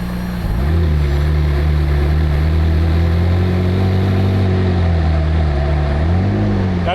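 A McLaren 675LT in launch control mode holds a loud, steady engine drone at fixed revs, awaiting full throttle, with a brief dip and rise in pitch near the end.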